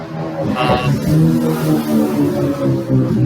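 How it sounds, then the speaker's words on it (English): A loud engine revs and roars nearby, the throaty rumble rising and holding as a vehicle accelerates past. "Really loud motorcycle down there"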